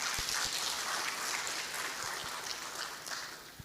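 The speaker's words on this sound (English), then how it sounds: "Can we give him another round of applause?" Sustained audience applause at an indoor knowledge-sharing forum, a dense wash of clapping hands filling the room at steady volume for several seconds, with a few sharper individual claps standing out near the end.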